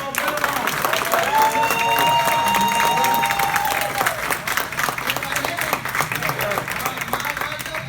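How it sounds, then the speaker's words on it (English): A crowd applauds and cheers for a speaker at a live motivational talk, with sustained dense clapping and whoops that thin out slightly toward the end while voices mingle in. "Give him a round of applause."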